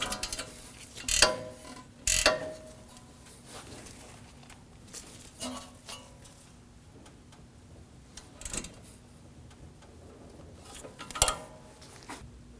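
A ratchet tightens a ball joint nut on a 2016-2022 Honda Pilot during front wheel bearing work, giving a few scattered sharp clicks and clanks spread over quiet mechanical background.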